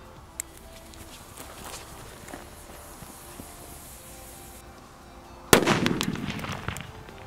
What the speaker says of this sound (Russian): Далее у нас идут петарды Корсар 8, К0208.